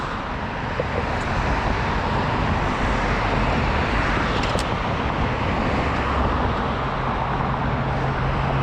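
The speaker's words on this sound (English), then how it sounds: "Look at all the traffic," Steady city road traffic heard from a bicycle, with cars and other vehicles rumbling and hissing past in a loud, continuous wash of engine and tyre noise and no talk.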